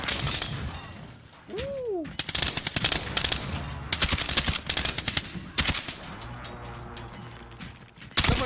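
Rapid bursts of gunfire in the video game Call of Duty: Warzone crackle in dense volleys, loud and close, with a brief whooshing sweep early on and shifting electronic background tones.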